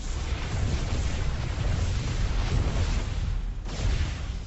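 Immortals blasting Photon Cannons in StarCraft, a steady wash of explosions and weapon bursts that stays loud and dense from start to finish, without clear breaks between hits.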